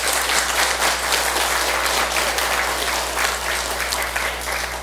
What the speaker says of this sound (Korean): 그런 분한테 우리 박수 한번 보내주시죠.